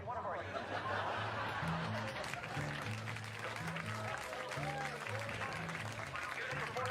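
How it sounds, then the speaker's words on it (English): A comedy-show audience claps in a dense, steady wash, mixed with scattered laughter and chuckles, while low music plays underneath throughout. "I need a sporadic applause on the CD"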